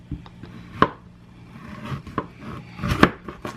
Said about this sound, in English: I'm going to go ahead and chop up my zucchini